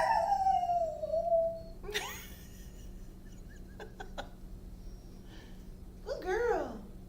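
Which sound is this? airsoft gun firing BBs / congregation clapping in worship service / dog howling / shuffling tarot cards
dog howling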